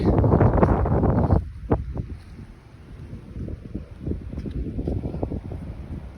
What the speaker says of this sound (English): even though it's still windy